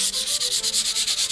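Gesso coat on a painting surface sanded lightly by hand, a steady back-and-forth rasp in about a dozen even strokes, close and alone with no voices.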